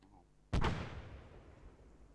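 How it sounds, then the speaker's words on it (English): A landmine goes off in a war video game as a single sudden, deep, booming blast. Its rumble tails away for over a second, and faint background noise is heard before it. "There's a lot of mines exploding."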